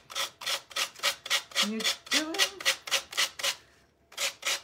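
Hand sanding a wooden shabby chic Christmas angel with 120 grit sandpaper: about a dozen brisk, even rasping strokes in a steady rhythm, close up, a short pause near the end, with a person talking quietly underneath.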